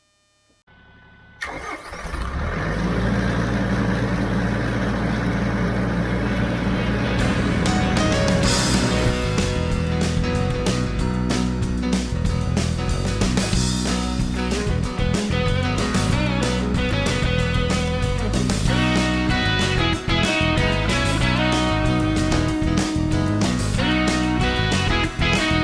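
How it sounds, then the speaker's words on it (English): Farm tractor engine starting and then running steadily on a public road on the way to a fast food drive-thru, a loud continuous mid-pitched rumble that persists throughout with no talking. "We're taking the tractor."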